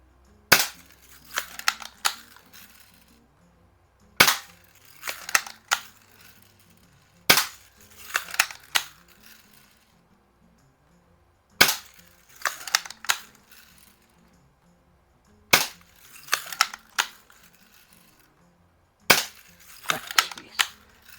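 Sharp shots fired at a can come in quick bursts of two to four close, loud cracks, each followed by faint clinks and rattles, with short quiet gaps between the bursts.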